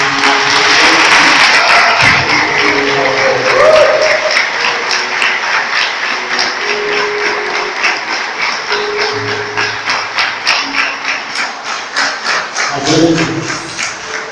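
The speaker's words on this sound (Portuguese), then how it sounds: "Aplauda o Senhor." Church congregation applauding during a service, loud sustained clapping that later falls into a rhythmic, pulsing beat, with scattered thumps and other sounds in the room.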